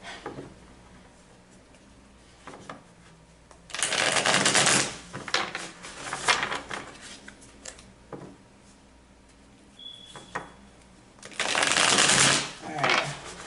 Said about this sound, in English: Give me some time here as I'm shuffling.